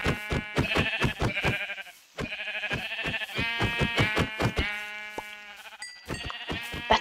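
Repeated blocky sheep bleats from the video game Minecraft, a quick series of loud, close calls that keep stacking over one another with short gaps, with no talking.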